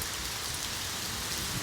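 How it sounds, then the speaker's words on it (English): Heavy rain pours down steadily in a dense, continuous hiss of drops on surfaces, loud and close, with no voices over it. "The rain got heavier."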